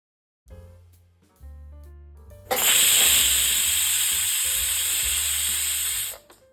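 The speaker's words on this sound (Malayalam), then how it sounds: "ഇനി ഇത് അടച്ചു വെച്ചതിന് ശേഷം കൂടിയ തീയിൽ ഒരു വിസിലടിക്കുന്നത് വരെ കുക്ക് ചെയ്യണം." A pressure cooker on a high flame lets out a loud, sharp hiss of escaping steam that lasts about four seconds and then cuts off. Soft background music plays before the hiss begins.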